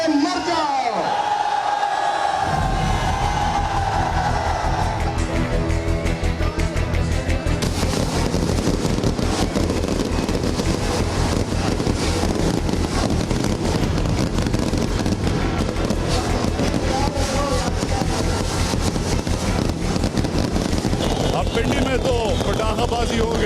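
Firecrackers crackle and pop continuously amid a roaring, cheering crowd, a dense, loud wash of bangs and shouting that carries on without pause.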